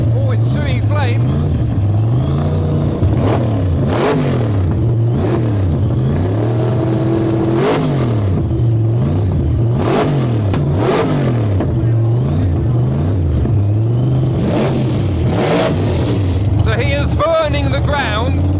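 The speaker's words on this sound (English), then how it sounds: "Oh, it's shooting flames." A 1000 hp Chevy at a lawn rev battle is revved hard again and again, its exhaust popping and shooting flames, producing rising and falling roars in quick succession close by, with people talking over the noise.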